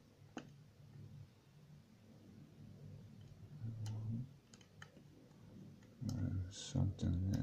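A 6-pin euro cylinder lock being picked and gutted gives off faint, scattered clicks and small ticks, with low muttering speech around them and a denser cluster of clicks near the end.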